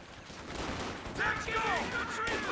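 Crackling rifle volleys from infantry squads in the Company of Heroes 2 strategy game, a mid-distance battlefield clatter with whistling tones joining partway through; a commentator may be talking over it.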